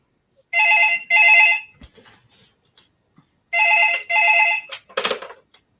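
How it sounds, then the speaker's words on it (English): A telephone rings in an indoor room during a live talk show, with two paired bursts of electronic bell tone, loud and close, followed by brief rustling and a short clatter. "Sorry, the phone really goes off."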